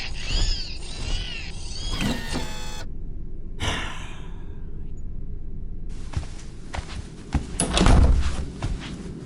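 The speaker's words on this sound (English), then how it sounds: "We are put into motion once the door is opened." A door in an audio drama opens with a run of sharp clicks and rattles, then a sustained mechanical whirr and rush that swells toward the end, heard up close.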